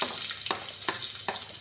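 Finely chopped garlic dropped into hot oil in a pan sizzles in a steady, soft hiss, broken by a few brief scraping stirs, with no voices present.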